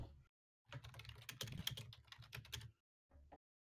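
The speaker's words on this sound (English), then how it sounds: "Typing." Rapid clicking keystrokes on a computer keyboard, close and fairly quiet, run in two bursts separated by brief pauses in an otherwise silent room.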